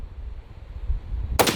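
Single sharp rifle shot from a 300 Win Mag firing a 175 grain round, a loud abrupt crack at the very end after a moment of low rumbling quiet.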